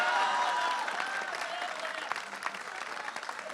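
An audience at a Hindi kavi sammelan poetry gathering breaks into applause, a dense burst of clapping that starts loud and thins out into scattered claps over a few seconds.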